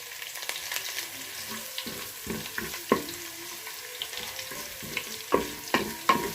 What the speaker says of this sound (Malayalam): നമ്മൾ എണ്ണ ചൂടായി കഴിഞ്ഞാൽ നമുക്ക് ഇഞ്ചി ചേർത്ത് കൊടുക്കുക